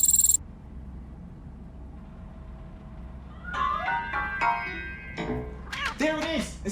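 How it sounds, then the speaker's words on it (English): A cat in RoboCop: Rogue City, hidden inside a piano, gives several short meows in the second half after a quiet stretch, fairly close and clear, with a brief electronic tone at the very start. "That cat must be hiding inside. Let me lure it out."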